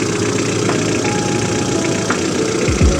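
Kia Bongo 3 single cab with a D4CB 2.5 turbo diesel engine idling, a loud close steady diesel clatter with a low rumble and a short deeper revving swell near the end.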